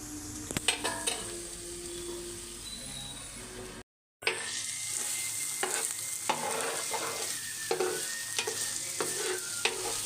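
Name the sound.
potatoes cooking in aloo masala curry pan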